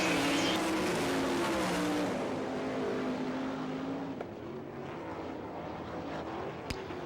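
Race cars on the All Star Circuit of Champions track at Barberville, Florida, during a heat race, their engines roaring loud and steady as they pass, then fading with the crowd and track noise behind.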